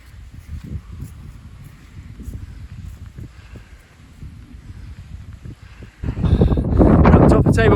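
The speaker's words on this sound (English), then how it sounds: "We're at the top of Table Mountain. It's a bit windy." Wind blows on top of Table Mountain, gusty and rumbling against the microphone, and it swells into a stronger, louder blast near the end; no clear talk over it.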